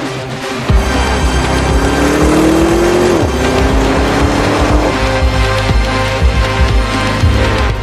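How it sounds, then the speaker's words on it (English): An Audi RS Q8's powerful engine roars loudly and continuously, the revs climbing and dropping as it accelerates hard, close by and with no voices. "they'll be able to hear the RSQ8 roar all the way back in Manali"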